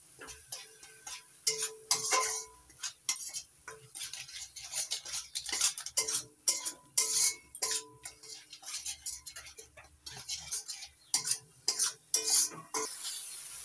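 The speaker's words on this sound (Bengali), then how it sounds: "এবার নাড়াচাড়া করে মিশিয়ে নিচ্ছি।" Turmeric and Kashmiri red chili powder are stirred into the contents of a pan, giving a steady run of scraping, clinking spoon taps against the metal and a faint sizzle, close and fairly quiet with no talking.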